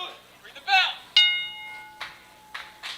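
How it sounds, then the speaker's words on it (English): Wrestling ring bell struck at the start of a match, giving a bright clang with a long ringing tail. Shorter, fainter metallic hits follow close by. "Ring the bell."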